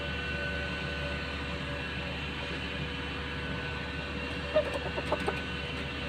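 An 11-month-old rooster, large-bodied with a red face, lets out a few quick clucks near the end after a stretch of steady low hum. The clucks are brief and moderately close, with no voices.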